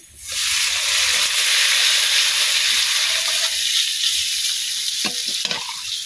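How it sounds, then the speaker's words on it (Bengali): Spice paste sizzles loudly in a pan on a clay stove, a steady bright hiss that starts suddenly and carries on. Faint scraping stir strokes sit underneath, with a few clinks near the end. "মশলাটা দিয়ে আলতেছি, কষায় নিয়ে হিদল দিতে"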